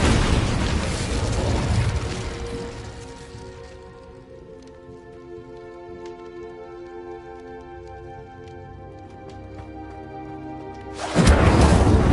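A Confringo fire spell in the Hogwarts Legacy game bursts as a loud explosive roar that decays into a long ringing, crackling tail, then another sharp blast erupts near the end.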